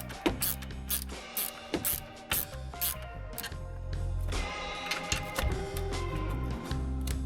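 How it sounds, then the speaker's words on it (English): A ratchet with a deep socket tightening a 10 mm nut on a stud during car prep for the track, giving quick bursts of clicking near the start, then a steadier mechanical whir and clatter. "I'm going to use a deep socket because of the stud that's going to poke up"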